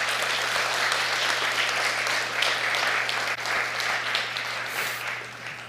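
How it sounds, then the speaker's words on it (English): Audience applause at a community summit, a dense, continuous round of clapping from a large crowd, fairly loud and steady before tapering slightly at the end, with a low electrical hum underneath. "let's give her another round of applause"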